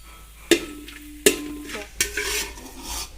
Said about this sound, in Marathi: हिंगाचे खडे व्यवस्थित फुलतील असे तळून घ्यायचे आहेत या तेलामध्ये